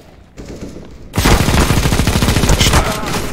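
Video game gunfire: a quiet opening gives way to a loud, continuous burst of rapid automatic shots that lasts to the end, close and dense.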